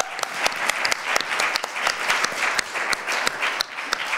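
A studio audience on an Italian television broadcast gives steady, full applause, with many hands clapping together throughout and no talking.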